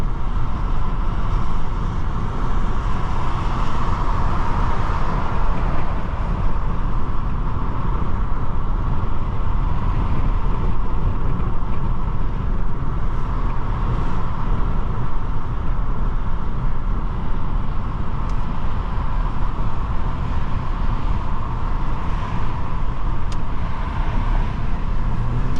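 Steady interior road and engine noise from a 2004 Nissan Maxima 3.5 SE while it drives, a constant broadband rumble with a mild tonal hum that stays unbroken and even, with no talking.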